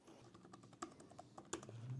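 Sharp, loud clicks from the trackpad of an older iPad Magic Keyboard, two distinct presses about 0.7 seconds apart over quiet room noise, with no talking.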